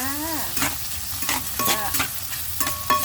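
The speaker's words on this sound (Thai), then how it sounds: "ผัดลูกชิ้นให้หอมค่ะ" Thai-style fish balls stir-fried in a hot pan, with repeated scraping strokes of a utensil over a steady sizzle and no talking.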